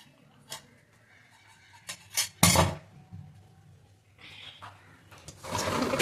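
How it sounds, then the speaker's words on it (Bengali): A bowl is set down and put away in a home kitchen, giving a few close, sharp clinks of dishware with a brief louder clatter, followed by rustling and running-water-like hiss. "আমি কিচেনে বাটি রাখতে যাচ্ছি"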